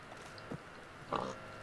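Pigs oink in Minecraft, with two soft, short grunts and a slightly louder snort near the end. They are faint and close, with no talk over them.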